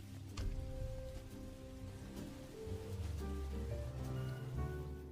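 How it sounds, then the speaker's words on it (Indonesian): Rain pours down in a film scene as a man stands out in the downpour, a dense, steady hiss of falling water with a low rumble and some faint tonal music underneath. "Jacob lalu berdiri di bawah guyuran hujan"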